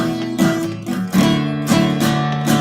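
Acoustic guitar strumming a simple rhythm, chords struck several times with a steady, slightly uneven pulse, close and clear.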